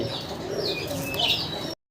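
A pair of red Lahori pigeons coo softly amid faint chirps and background noise, close by and fairly quiet, ending in a brief cut to silence.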